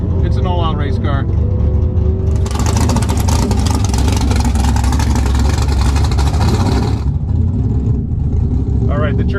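A loud drag race engine of a big-tire Chevrolet Camaro Z28 roars steadily and close, rising into a harsh high-revving burst mid-clip before settling back to a heavy rumble.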